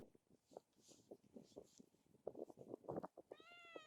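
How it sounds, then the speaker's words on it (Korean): A wild mountain cat meows several times close by, short plaintive calls in an irregular sequence with soft rustling at the peak of a mountain, and one drawn-out meow at the end. "이것이 냥냥펀치 야생 산고양이라는 게 믿기지가 않는군"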